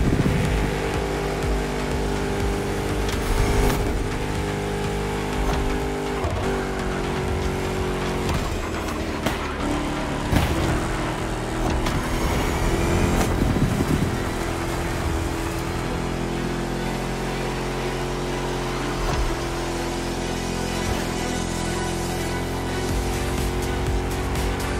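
A Chrysler 300 SRT8 Liberty Walker Edition with a V8 Hemi racing in The Crew Motorfest, its engine droning steadily and loudly throughout with shifting pitch as it revs and changes gears.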